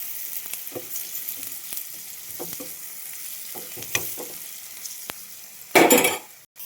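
Noodles tossed with manthi masala sizzle faintly in a pan while a utensil stirs and taps in scattered strokes, ending in a loud burst of frying just before the close.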